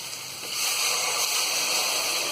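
A full glass of water pours into raw rice in a pressure cooker for pea pulao, a steady close splashing rush that swells after a quiet start and holds evenly.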